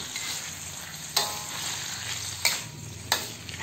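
Bitter gourd frying in a pan with a little salt, a continuous sizzle broken by three distinct scraping strokes of a spatula, close and fairly loud with no voices.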